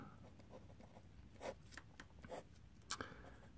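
Faint, scratchy strokes of writing on a board, a handful of short scrapes bunched into quick bursts in a quiet room.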